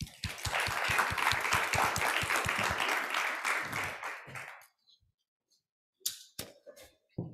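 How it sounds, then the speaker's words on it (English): A conference audience gives a round of applause for the speakers of an academic session, dense clapping for about four seconds that tapers off into near silence, followed by a few scattered sounds like a cough. "let's give a round of applause for all the speakers of this session"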